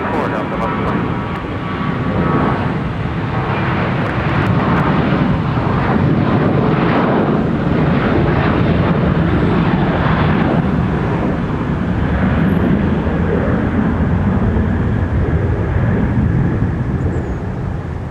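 Airplanes taxi, arrive and depart at Minneapolis–St. Paul Airport, a loud sustained engine roar that swells and holds with a broad rumbling wash.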